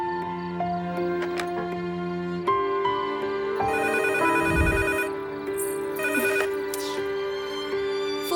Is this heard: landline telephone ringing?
yes